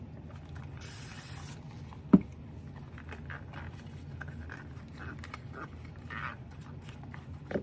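A spray can gives one short hissing burst of about a second, used while making a resin bowl, followed by faint handling noises and quiet background sounds.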